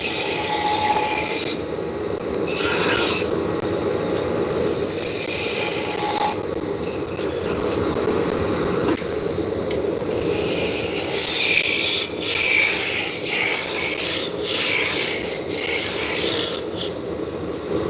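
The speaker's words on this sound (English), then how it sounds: "I'm doing a lot of work with my roughing gouge." A roughing gouge cuts wood spinning on a lathe while a drop spindle is made, giving a continuous loud rasping, scraping roar. It swells and dips as the tool is worked across the piece, with no talking.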